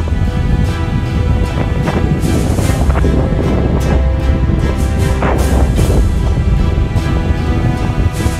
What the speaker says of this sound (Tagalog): ramdam na namin ang malakas na hangin na may kasama pang ambon